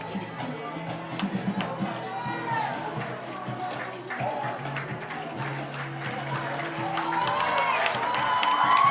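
A high school football crowd at an Athenian versus Fountain Central Mustangs game cheers, claps and shouts, the noise swelling louder toward the end, with voices talking over it.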